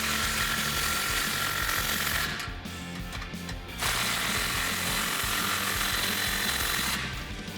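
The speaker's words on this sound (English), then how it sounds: "Now I'm going to take my 15mm and my impact gun and tighten up our 2 clamps here that hold our tailpipes" An impact gun with a 15mm socket tightens two tailpipe exhaust clamps on a 2009–2018 RAM 1500 5.7L, giving a loud continuous rattling hammer that stops briefly and then resumes for a second burst.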